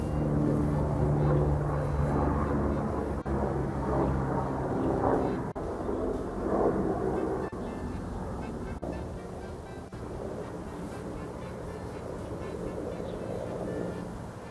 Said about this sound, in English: I'm gonna wait for that plane.